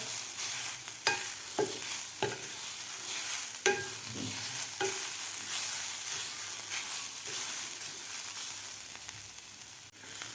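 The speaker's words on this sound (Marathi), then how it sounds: "मिल्क पावडर घातल्यानंतर मी एक ते दीड मिनिट हे गाजराचा किस परतून घेतलेला आहे" Grated carrot with milk powder is sautéed in a pan for gharge, giving a soft continuous sizzle broken by several sharp spoon scrapes and taps, close by with no talk.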